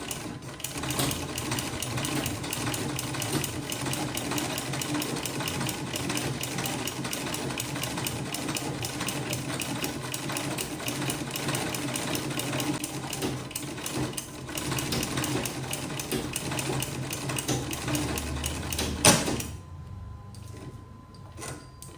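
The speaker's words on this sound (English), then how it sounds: "Then I'm going to sew my first buttonhole." A manual sewing machine fitted with a buttonhole attachment runs steadily and loud for about nineteen seconds, its needle ticking in a rapid mechanical rhythm, then stops with a click and leaves near quiet.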